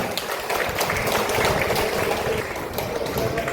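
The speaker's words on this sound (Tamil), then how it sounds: "எல்லாம் வேகமா கைத்தட்டுங்க" Dense crowd applause at a Pongal welfare event at Sankara College fills the space as a steady wash of fast clapping throughout, moderately loud with no clear pauses.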